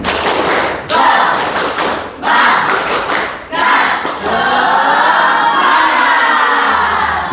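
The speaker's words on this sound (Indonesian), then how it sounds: "1, 2, 3 tepuk semangat" A junior high school class at SMP Negeri 1 Kanyangan performs the rhythmic tepuk semangat spirit clap, loud bursts of group claps and thumps broken by short pauses, with voices chanting and shouting along up close.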